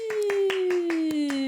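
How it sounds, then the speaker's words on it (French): A woman clapping for herself on a talk show: about seven slow, evenly spaced hand claps over a sustained tone, close and clear, with no crowd. "Je m'applaudis moi-même"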